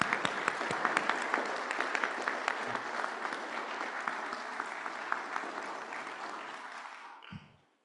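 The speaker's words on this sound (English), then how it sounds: "Please give him a big round of applause." A big round of applause for the 23rd President of the University of Arizona, Dr. Suresh Garimella, at a press conference: loud, steady clapping from a roomful of people that carries on for about seven seconds before stopping abruptly.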